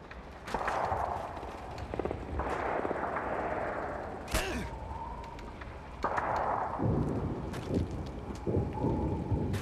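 A stun grenade detonating in a video game, one sharp, loud bang midway through, ringing amid ongoing rumbling gunfire and blasts.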